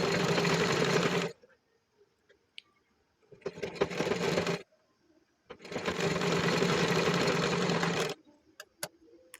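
A sewing machine stitches a blouse in three loud, steady bursts of whirring, separated by short pauses with faint clicks and handling noises.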